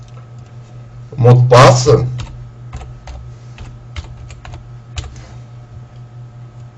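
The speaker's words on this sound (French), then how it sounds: "Je tape mon pseudo," Computer keyboard typing of a username and password: short bursts of light key clicks scattered after a brief spoken phrase, close and moderately quiet.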